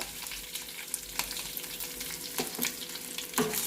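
Curry leaves and a pinch of asafoetida crackle and sizzle in hot oil for gonguura pulihora tempering, a steady close frying hiss with sharp pops and brief spatters, no voices.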